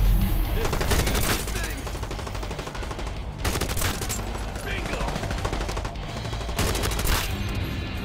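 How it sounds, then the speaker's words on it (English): Heavy machine gun fire in The Division: Resurgence, a mobile shooter game, comes as loud, dense, sustained bursts with brief breaks, rattling continuously over the game's background sound. "And they have a heavy machine gun."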